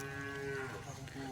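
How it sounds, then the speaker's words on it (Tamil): Cattle moo in one low, sustained, droning call at a village grazing ground, heard close and steady over the background. "மாடு மேய்க்கிறாங்க."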